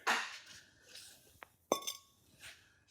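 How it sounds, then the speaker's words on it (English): Metallic clinks and a sharp scraping ring as a Jeep JK brake rotor is worked loose and slid off the axle hub, a few separate close knocks and one brighter clang. "we're gonna go ahead and pull the brake rotor off. It should just slide off on a JK."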